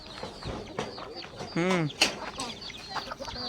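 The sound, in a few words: chickens clucking on a farm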